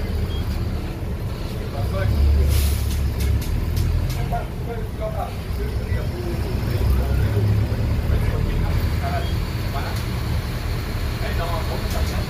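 A Marco Polo Torino bus engine rumbles loudly and steadily from inside the vehicle in heavy rain, with road noise and a voice talking over it.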